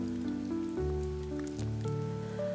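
Soft, steady rain patters gently on a surface while calm sustained musical tones play over it.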